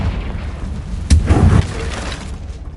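A Confringo fire spell from Hogwarts Legacy bursts in a sharp, loud blast with a short rumbling tail, rising out of a steady background of game ambience.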